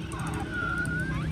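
An ambulance siren wails faintly in the distance, a steady rising and falling tone carried over a constant low rumble of traffic or engine noise.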